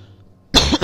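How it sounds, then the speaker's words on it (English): One short, close cough bursts out after a quiet moment during a Metro Last Light playthrough session. "that cough will signify that I am back"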